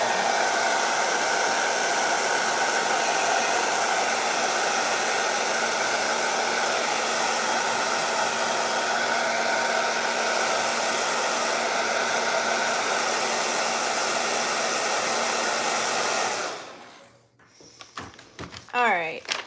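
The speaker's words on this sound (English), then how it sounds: "I'm going to blow dry it, get it nice and dry" A hair dryer blows steadily and loudly for about sixteen seconds, then switches off, followed by a few soft handling knocks and thumps.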